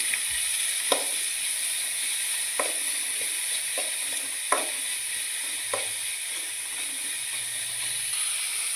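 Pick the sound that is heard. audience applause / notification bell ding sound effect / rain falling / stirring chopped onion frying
stirring chopped onion frying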